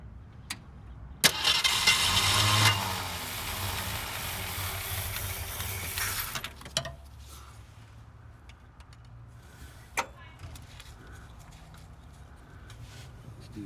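A 1967 Ford Mustang engine fires up with a harsh, loud burst for several seconds, then drops back to a low, steady idle with a few faint clicks and knocks over it.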